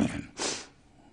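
A single close, loud sneeze: a short breathy intake followed by a sharp burst of air, then quiet breathing, in a church during a sermon.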